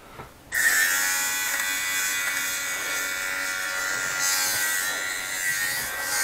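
A small battery-powered lint remover switches on abruptly and then runs with a steady, buzzing motor whine at close range, its tone shifting slightly as it moves over fabric.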